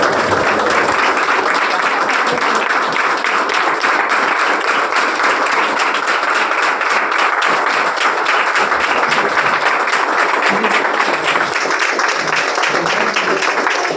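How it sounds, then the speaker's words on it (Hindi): A large indoor audience claps to welcome a regional head, a dense and steady wash of applause that carries on at full strength for the whole stretch. "जोरदार तालियों से स्वागत करते हैं हमारे रीजनल हेड रवि सर का"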